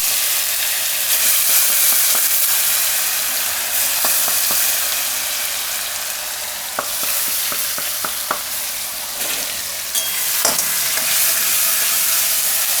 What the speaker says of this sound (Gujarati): તેલ આપણું ગરમ થઈ ગયું છે. એમાં નાખશું થોડુંક આખું જીરું, થોડીક હિંગ અને આદુ મરચાં ને લસણ.